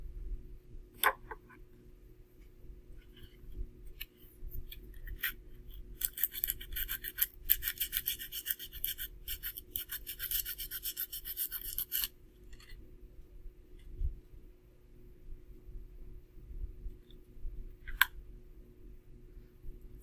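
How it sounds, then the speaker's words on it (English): A plastic Breyer Stablemate horse model being sanded with coarse sandpaper to remove seams and logos, quiet close-up scratchy rasping in short strokes, with a denser burst of rubbing in the middle, over faint low background hum. "So I'm going to remove the kind of thicker parts first, and then after that I'll move to the more fine sandpaper"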